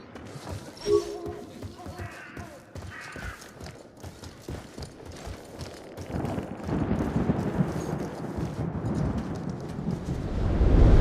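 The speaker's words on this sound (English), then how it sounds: "Whoa, that's a hell of a surge storm." A thunderous surge storm in a sci-fi survival video game rolls in as a deep, continuous rumble that builds steadily and grows louder toward the end, with scattered crackles and a brief voice-like sound early on.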